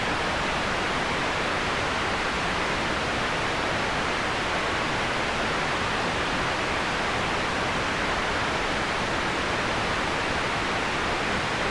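A synthesized white noise signal plays as a steady, unbroken broadband hiss at constant loudness, alone with no other sounds.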